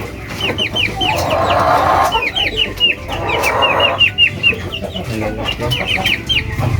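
Cornish chickens on a farm clucking in repeated bursts, several birds close by with a rooster-like call mixed in, steady background farmyard noise and no talking.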